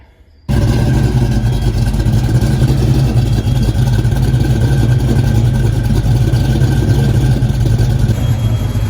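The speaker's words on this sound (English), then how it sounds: "First time we started the car in maybe a week or so." A Ford Mustang Foxbody drag car engine catches after a brief moment of quiet and settles straight into a loud, steady, rumbling idle, close to the listener and heard alone.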